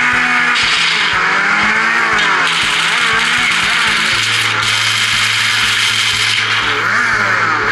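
A loud, buzzing motorcycle engine in a mobile video game roars continuously with shifting pitch, revving up and down like a racing motorcycle, steady and close throughout.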